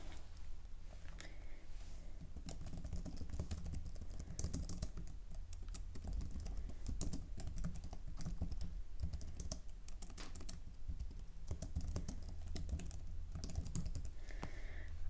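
Rapid, continuous clicking of keys on a computer keyboard, close and dense, with no pauses for the whole stretch.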